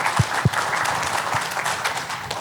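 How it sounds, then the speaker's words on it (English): An audience at a women-in-tech panel at a Pacific fiber conference breaks into applause, a few loud claps up front over a broad continuous patter of clapping from the crowd. "A round of applause"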